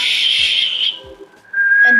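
A sustained whistled tone close by, steady at first, then dropping away before a thinner, higher whistle returns.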